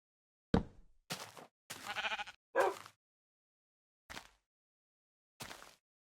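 Sheep in a Minecraft-style block game bleat about six times in short separate calls. The calls are spaced irregularly and sound clear and close, with silence between them.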